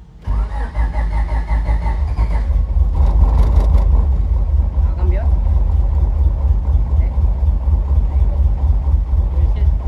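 A JDM car engine idles low and rough just after starting, a deep, steady rumble close by while people talk over it.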